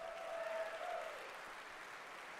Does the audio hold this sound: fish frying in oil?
no